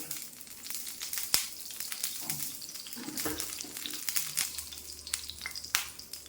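About one and a half teaspoons of coconut oil heats in a pan on the stove for tempering mustard seeds, making a soft, low sizzle with scattered faint crackles and ticks.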